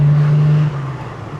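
A 1968 Jaguar 340 engine roars close by, a loud steady drone that shifts lower partway through as if changing gear.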